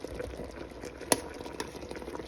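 Tilapia simmering in coconut milk in a pot, a soft, steady bubbling boil with small pops and one sharper clink of a utensil.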